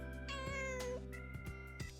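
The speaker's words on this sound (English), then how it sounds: "There's a cat." A cat in the video game Persona 4 Golden meows in a few clear, drawn-out cries, close and fairly loud, set over a steady background music bed with no talk.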